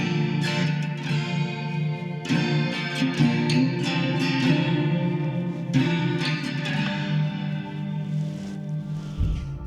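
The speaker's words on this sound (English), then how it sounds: "I have changed it to be more of a chorus with a little bit of reverb and delay." Electric guitar played through an Enya Nova Go SP1 with a chorus preset plus a little reverb and delay, shimmering chords and picked notes ringing with echoing, wide tails, played alone without speech.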